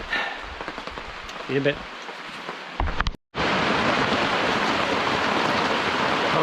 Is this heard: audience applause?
no